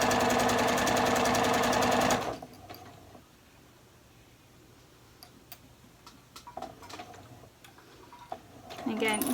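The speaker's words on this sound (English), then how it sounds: "I actually like to sew my lighter weight knits, or my lighter weight sweater knits, with my sewing machine" Home sewing machine stitching the arm band of a lighter weight sweater knit, a loud steady mechanical whir for about two seconds that then stops, leaving quiet room sound with a few small clicks and handling noises.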